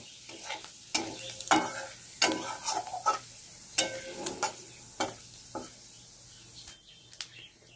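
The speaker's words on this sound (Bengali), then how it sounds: "প্রথমে লঙ্কা দেবো, তেজপাতা দিলাম, জিরে দিলাম। এটা একটু ভেজে নেব।" Chilli, bay leaf and cumin crackle and sizzle in hot oil, with a run of sharp pops and stirring clatters spread through the few seconds, fairly close and moderately loud, with no talk.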